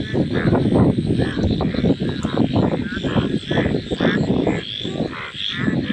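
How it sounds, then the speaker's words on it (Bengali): Frogs croak at night on a stormy, rainy evening of fishing, a dense steady chorus of overlapping calls filling the whole stretch, loud and continuous with broadband wet noise behind. "আওয়াজ তো পাচ্ছেন খালি ব্যাঙ কীভাবে ডাকছে"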